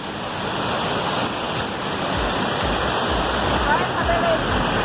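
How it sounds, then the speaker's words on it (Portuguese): The Santa Bárbara waterfall in Jalapão, Brazil, roars in a dense, constant rush of falling water, loud and close, with a brief faint voice barely rising over it. "Cachoeira de Santa Bárbara aqui, ó."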